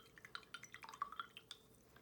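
Water drips and trickles while a large paintbrush is rinsed during a painting session, a string of small, close, soft plinks and splashes in light irregular rhythm with no talk.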